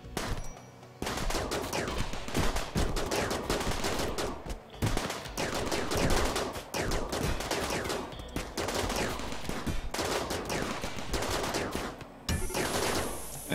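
Dense, continuous gunfire from turrets and weapons in the Rimworld video game, Alpha 9, rattles as rapid overlapping shots at a fairly loud, steady level with little pause.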